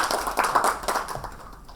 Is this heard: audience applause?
yes